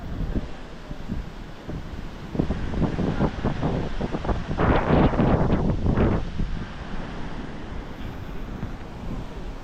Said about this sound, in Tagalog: Taas pa rin ang alon.